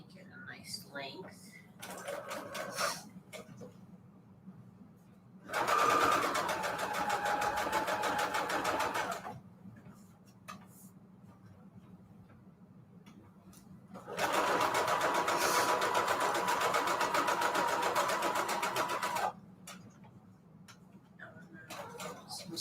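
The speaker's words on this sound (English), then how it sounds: "Just gonna do a straight stitch on this." A sewing machine runs a straight stitch on vellum in two sustained bursts of steady, close mechanical whirring, separated by quiet pauses with small handling sounds.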